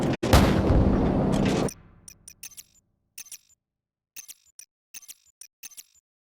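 A large artillery explosion in Call of Duty 4: Modern Warfare starts with a loud, dense boom that rumbles for about a second and a half and stops sharply. Scattered short, sharp clicks and cracks follow over near silence.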